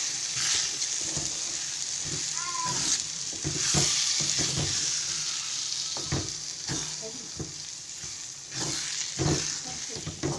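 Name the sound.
stirring egg podimas frying in a pan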